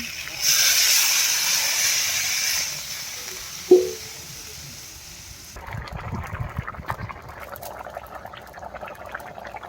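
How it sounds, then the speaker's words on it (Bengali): Water poured into a pan of fried potatoes and spices for a fish curry, first a broad hissing rush, then a quieter, continuing bubbling sizzle close by, with someone speaking over it. "এবারে জল ঢেলে দেবো"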